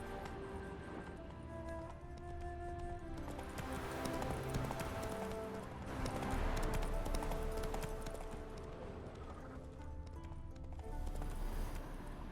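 Rhythmic hoofbeats of a galloping horse in The Witcher 3 video game, a steady clip-clop that runs throughout at moderate loudness.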